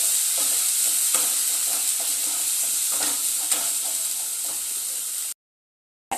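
Chicken masala with turmeric, salt and Kashmiri chilli powder sautéed in a pan over medium-high gas: a steady, close sizzle with soft stirring scrapes throughout, then a brief silence at the end.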